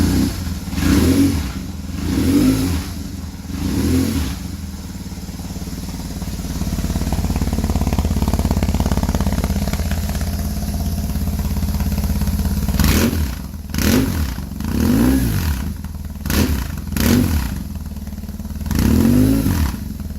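A BMW R 1150 GS motorcycle fitted with a Ztechnik exhaust, started and idling with a steady, throaty dirt-bike-like rumble, then sharp throttle snaps producing a series of loud, barking revs close by.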